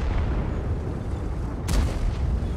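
A tank cannon fires in the World of Tanks video game, a single sharp boom that bursts out over steady engine rumble and then fades.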